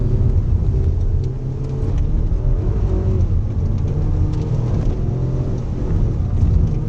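A Mazda MX5 racing up the Wiscombe Park hillclimb, its engine a loud, close, continuous rumbling drone that dips briefly and then builds again.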